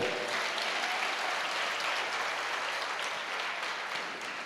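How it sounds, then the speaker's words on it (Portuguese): A church congregation at a Nova Aliança worship service breaks into dense, sustained applause, a steady roar of many hands clapping together without a break. "Aquela mulher, pode aplaudir ele que é bom."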